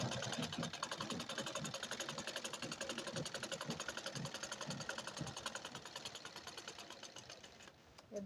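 A sewing machine runs a straight line of stitches along a blouse border, a fast, even mechanical chatter that stays steady and close before slowing near the end.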